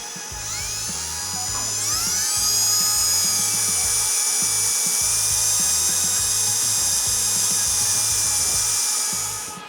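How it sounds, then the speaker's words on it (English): A power drill whines at high pitch, spinning up and cutting steadily through a metal TT250 motorcycle handlebar for several seconds with a rattling, stuttering low grind underneath. "now I can drill my hole out and line everything up"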